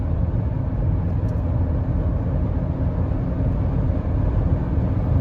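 Interior rumble of a Chevrolet HHR driving, a steady low engine and road drone at even loudness with no clear shift changes and no talking.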